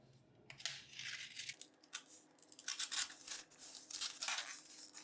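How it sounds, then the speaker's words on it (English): A knife slices through packing tape sealed on a cardboard box of Myfitness crunchy peanut butter, giving close, scratchy rasps and tearing strokes in several short bursts with brief pauses between them. "Let's remove this tape using the knife."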